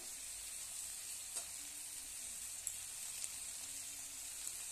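Quiet, continuous sizzle of vegetables and diced onion frying lightly in a pan, with a couple of faint utensil taps; no voices.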